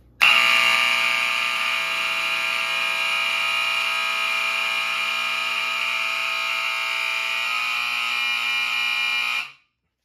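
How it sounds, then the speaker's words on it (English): A vintage fire alarm adapter horn blares a loud, steady, harsh buzzing tone alone for about nine seconds before cutting off abruptly. "And now, the adapter horn."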